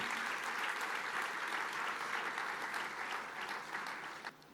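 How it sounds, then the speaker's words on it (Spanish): A church congregation gives a sustained burst of applause in praise, a dense, even clapping of many hands heard at moderate distance. It fades slightly and stops abruptly near the end. "Fuerte ese aplauso de alabanza al Señor."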